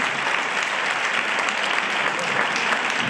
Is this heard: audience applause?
yes